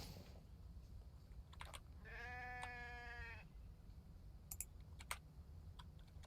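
A lamb in a survival video game bleats once, a clear tonal cry lasting about a second and a half over a low background hum, with a few faint clicks before and after.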